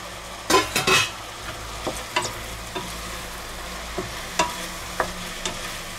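Chopped onions sizzle in a pan while being sautéed for a cheese and minced meat soup with leeks, a steady close frying hiss broken by several sharp scraping stirs near the start and scattered clinks afterward.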